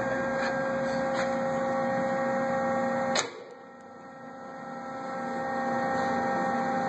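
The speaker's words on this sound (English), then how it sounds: "Coolant turns on with the chuck." Heald Model 271 plain chuck type internal grinder running with coolant, a steady machine hum with tonal whine, a brief sharp transient midway after which the level drops and slowly builds back; no talking.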